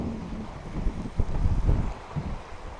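Wind blows over a sailing catamaran at sea near Kalymnos, Greece, a gusty rush and rumble of a light breeze buffeting the microphone, rising and falling with water noise beneath.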